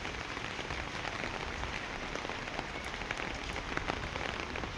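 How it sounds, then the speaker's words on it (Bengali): Heavy rain falls steadily on surfaces outdoors, a dense, even patter with scattered louder drops, loud and unbroken throughout. "যে বৃষ্টি পড়ার যে আওয়াজটা হয়, ওই আওয়াজটা বেশ সুন্দরই লাগে"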